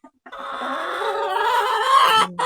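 Hens in a coop cluck and cackle in a continuous, rising burst of squawks, close and fairly loud, with farmyard background and no talking.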